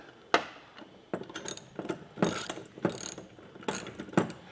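Socket ratchet fastening a nut onto a bolt on a truck bed ladder rack, quick close clicking bursts in an irregular rhythm of short strokes, with faint metal handling between.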